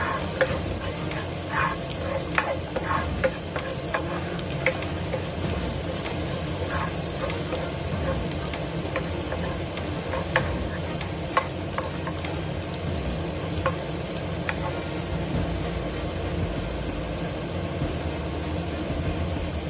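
Garlic sautés in a pan for a vegetarian cabbage dish, a continuous close sizzle with scattered scraping stirs and clicks, no talk heard.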